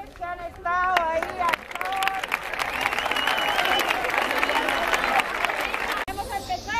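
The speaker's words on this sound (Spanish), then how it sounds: "quiero pedir un fuerte aplauso para los profesores que han estado ahí" Loud crowd applause for teachers at a school gymkhana prize-giving for Andalusia Day, sustained clapping and cheering for several seconds, with a voice speaking over the start and after it fades.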